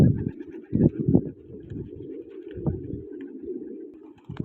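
Pigeons coo softly and repeatedly nearby, low murmuring calls overlapping in a calm, steady rhythm.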